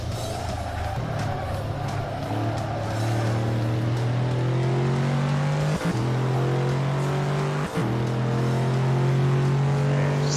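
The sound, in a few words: car engine driving a lap in Gran Turismo 4 video game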